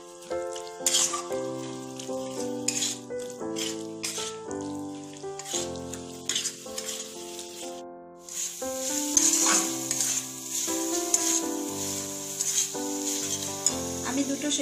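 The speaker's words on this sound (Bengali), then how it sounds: "একই সাথে কিছু কাঁচা কড়াইশুঁটি দিয়ে দিলাম। মশলার সাথে একটু ভাজা ভাজা করে দিলাম।" Green peas sizzle in a pan with chilli-ginger-garlic paste and tomato, a steady hiss of frying with occasional stirring, running under louder background music throughout.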